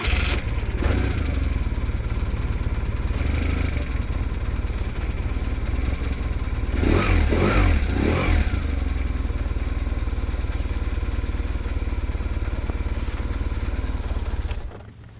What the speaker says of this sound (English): Could you please start the engine? Yeah. To, to listen the voice, the noise.